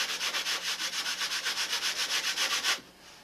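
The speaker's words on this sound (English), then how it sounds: "So we're going to start right now sanding and getting everything lined up as neat as possible." Rhythmic back-and-forth sanding of a wooden model airplane part, about twenty even strokes at a brisk steady pace, close and loud, stopping abruptly near the end.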